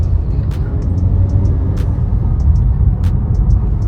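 A Honda CR-V 1.5 turbo accelerates with a dense, steady low rumble of engine and road noise, heard close up from inside, with faint clicks every few moments.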